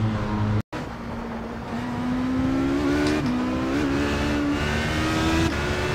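An HPD ARX Le Mans prototype race car in the iRacing sim at Suzuka drives steadily, its engine droning loud and close with pitch rising and dipping slightly through gear changes after a brief dropout.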